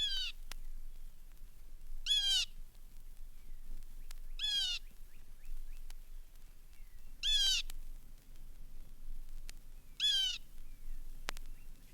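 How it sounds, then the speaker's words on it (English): Blue jay calls played from an extra crackly vintage record, four harsh repeated calls spaced a few seconds apart over steady surface noise and crackle. "Here's the blue jay."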